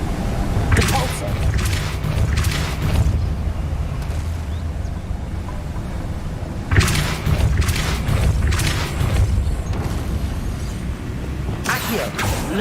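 A Depulso spell cast in Hogwarts Legacy, heard as loud, broad whooshing bursts in repeated clusters over a low rumbling game backdrop, with a voice speaking during the clip.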